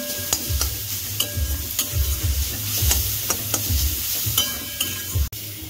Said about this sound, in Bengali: এবার হালকা করে একটু নেড়ে নেব।